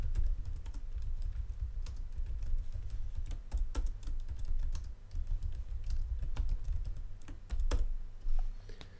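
Computer keyboard keys tapped in quick irregular bursts while messages are typed, close and fairly soft over a steady low hum, no talking.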